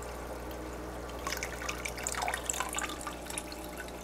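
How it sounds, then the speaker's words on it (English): Dissolved magnesium salt solution poured into an aquarium tank, giving a soft, continuous trickle and splash of liquid that rises in the middle of the pour, close and fairly quiet over a steady low hum. "now I'm going to pour it right into the tank"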